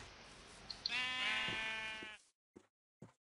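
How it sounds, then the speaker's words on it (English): A sheep in the Minecraft video game lets out one long, wavering bleat after being hit, loud and close, followed by two brief clipped sounds separated by near-silence. "now the evil sheep's gone psycho"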